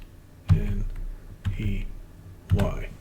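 Typing on a computer keyboard during a coding-assistant search demo: three bursts of key presses about a second apart, close and clear over a steady background hum, with no speech.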